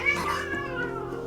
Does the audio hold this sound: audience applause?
no